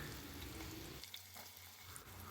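Quiet, steady sizzling of onions frying in hot oil, with a faint clink partway through.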